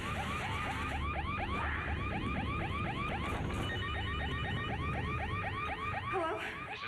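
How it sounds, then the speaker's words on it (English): A home security burglar alarm sounds loudly and continuously, a rapid repeating electronic siren whooping in steady cycles for the whole stretch, with no talk over it. "The alarm scared them off."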